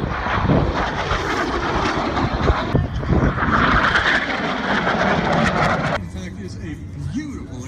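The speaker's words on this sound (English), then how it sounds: "Example of a torque roll right there." Propeller aerobatic airplane performing a torque roll at an airshow, a sustained loud engine drone with wavering pitch and some wind buffeting, the level dipping slightly toward the end.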